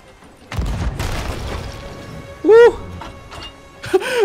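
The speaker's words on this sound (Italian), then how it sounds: "Matteo, spara un altro colpo." A ship's cannon fires in Sea of Thieves, one deep, booming blast near the start, followed by fainter game sounds and a couple of short, bright tones.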